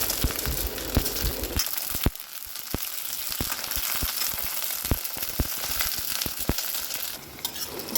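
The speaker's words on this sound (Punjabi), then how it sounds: "ਉਹੀ ਆਪਣਾ ਸਰੋਂ ਦਾ ਤੇਲ ਤੇ ਪਹਿਲਾਂ ਨਾ ਆਪਾਂ ਨੇ ਨੇ ਜਿਹੜੇ ਪਰਵਲ ਹੈਗੇ ਆ ਥੋੜੇ ਥੋੜੇ ਜਿਹੇ ਇਹਨਾਂ ਨੂੰ ਫਰਾਈ ਕਰਾਂਗੇ" Pieces of parwal (pointed gourd) frying in hot mustard oil in an iron kadhai make a steady, dense sizzle throughout, with brief crackles and stirring scrapes and no talking.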